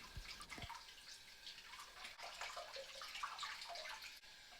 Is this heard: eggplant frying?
no